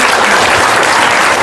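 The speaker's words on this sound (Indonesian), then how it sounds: "Tepuk tangan dong." Audience breaks into loud, dense applause, a continuous wash of many hands clapping close by for a short burst.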